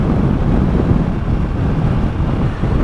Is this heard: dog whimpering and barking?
no